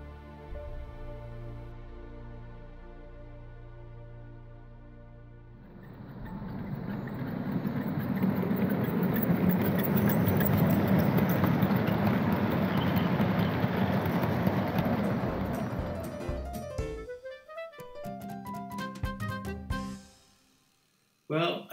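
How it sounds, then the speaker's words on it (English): A garden railway model locomotive approaches and passes along an outdoor layout, its steady rumbling run swelling loud for several seconds, then fading and breaking off into scattered clatter near the end. "I can see a locomotive coming round Ingleby, so I'll keep quiet and let you hear the sound."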